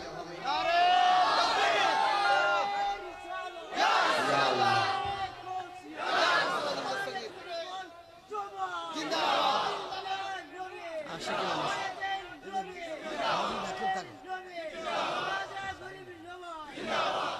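A large religious congregation roars a takbir in unison, loud massed voices rising in repeated surges every couple of seconds, shouting together close and full with crowd babble between calls.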